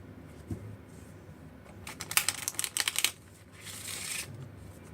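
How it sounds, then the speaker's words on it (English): A deck of playing cards is riffle shuffled close by, its rapid flutter of riffling clicks building for about a second before a brief softer rustle as the cards are squared, with no voices. "and then you're gonna do a riffle shuffle"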